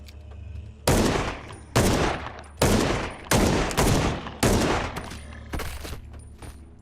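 Video game gunfire rings out in six or seven loud, evenly spaced shots, each a hard crack followed by a long decaying echo, close and with no talk over it.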